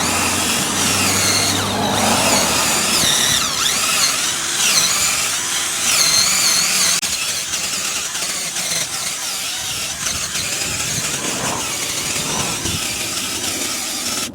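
A drill-mounted brush scrubbing a car wheel during cleaning with an all-wheel cleaner, giving a steady loud whirring motor hum with gritty brushing noise throughout, no talking.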